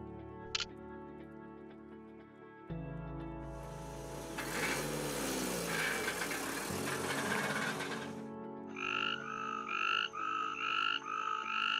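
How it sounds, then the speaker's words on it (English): A chorus of frogs in a Western Ghats forest at night: layered croaks and rapid pulsing trills, with a dense buzzing swell in the middle and rhythmic repeated calls at the end, fairly faint and distant. "At night, the forest comes alive with the chorus of frogs."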